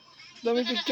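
A short, nearby goat bleat breaks in after a quiet moment, wavering and nasal, cut off at the end.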